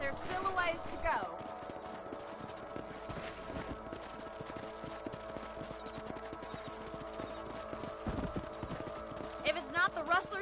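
Rhythmic clip-clop of horse hooves while riding in the video game Red Dead Redemption, steady and continuous at moderate level throughout, mixed with game ambience and occasional background sounds.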